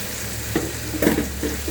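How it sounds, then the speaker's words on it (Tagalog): Marinated fried pork, seasoned with garlic, soy sauce, lemon juice and onion powder, goes into a pan for Bistek Tagalog, giving a steady sizzle with a few brief stirring clatters and scrapes up close. "So, lagay na natin ito ating karne na fried."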